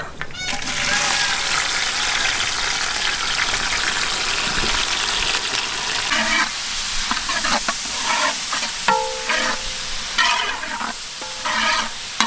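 Chopped onions sizzle steadily in hot oil with curry leaves for a mutton curry, a bright frying hiss, stirred now and then, with faint tonal sounds in the background.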